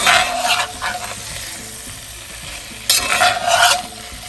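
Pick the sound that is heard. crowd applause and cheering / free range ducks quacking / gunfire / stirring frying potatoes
stirring frying potatoes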